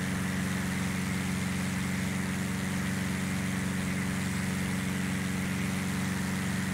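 A steady, droning aircraft engine at throttle in Flight Simulator X, a continuous propeller-like hum holding a constant pitch throughout, moderately quiet with no voices.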